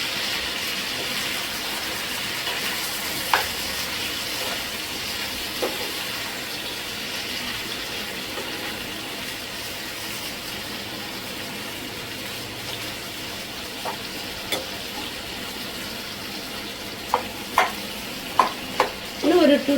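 Chicken fries in a pan with a continuous soft sizzle, broken near the end by a few sharp clatters and scrapes as the pieces are turned over.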